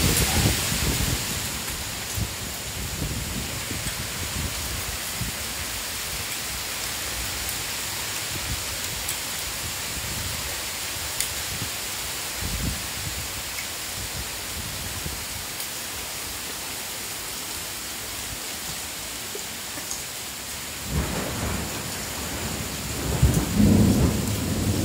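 Heavy thunderstorm with a downpour of rain and hail in Strzelce Opolskie, a steady dense roar of rain hitting surfaces with low rumbles of thunder, louder bursts near the end, no talking.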